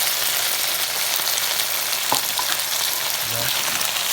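Mega sardines are stirred in a hot frying pan, giving a dense, loud, unbroken sizzle like heavy rain with a brief utensil clink midway, close up and without speech.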